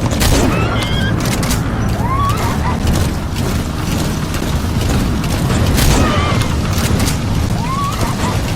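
Gunfire in a Metal Gear Solid V battle cutscene, a dense, steady roar of shots and explosions with mechanical clatter, loud and continuous throughout.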